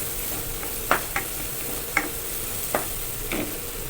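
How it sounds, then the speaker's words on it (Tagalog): Garlic and onion sautéing in a pan for pork adobo with pineapple, a steady sizzle broken by four or five sharp scrapes of a spatula at irregular intervals, close and without talk. "haluhaluin lang din natin hanggang sa lumabas yung aroma ng ating bawang at sibuyas"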